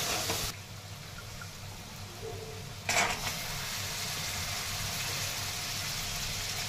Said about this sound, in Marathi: आता यामध्ये आपल्याला हरभरे टाकून घ्यायचे आहे।